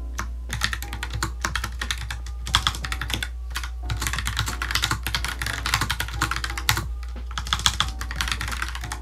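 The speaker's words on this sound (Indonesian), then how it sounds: "setelah ngetik dengan keyboard ini, rasanya tuh ya beneran cukup tactile, brown switch" Typing on a Logitech Pop Keys mechanical keyboard with brown switches gives a close, continuous clatter of tactile key presses in quick bursts, with brief pauses between runs of keystrokes over a low steady hum.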